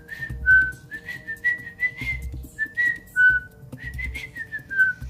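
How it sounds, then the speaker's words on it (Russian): A woman whistles a simple melody, clear close tones in short phrases with brief gaps between them, some notes sliding and trilling, with faint low background noise underneath and no talking. "В детстве я любила свистеть."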